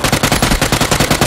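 Rapid automatic gunfire in the PC shooter PUBG, a steady, close, loud burst of evenly spaced shots with no talking.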